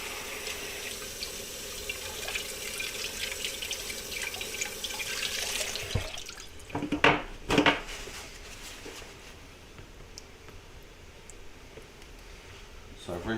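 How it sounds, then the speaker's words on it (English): Kitchen tap water runs in a steady hiss while herbs are rinsed, then shuts off, followed by a few clunks and drips and a quieter room with a voice speaking. "So I've rinsed my herbs."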